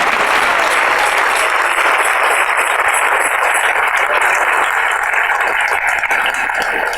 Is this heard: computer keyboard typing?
no